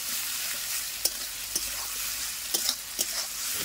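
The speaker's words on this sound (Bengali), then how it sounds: "তো সব কিছু ভালো করে আমি কষিয়ে নিচ্ছি" Ground cumin, coriander, fennel, onion paste and dried chillies being fried in a pan, a steady close sizzle broken by a few sharp spatula scrapes and taps.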